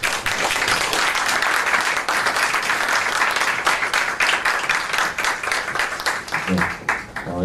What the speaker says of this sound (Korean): 네, 우리 박수로.